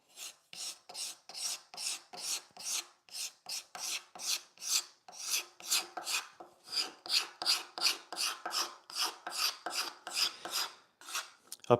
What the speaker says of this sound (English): Up here it's pretty much like end grain, so the card scraper can still do this.